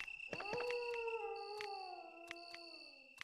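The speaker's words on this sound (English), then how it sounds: "Nice doggy?" A dog howls in the Resident Evil video game, a long tonal wail that slowly falls in pitch over a few seconds, with faint clicks and soft game tones behind it.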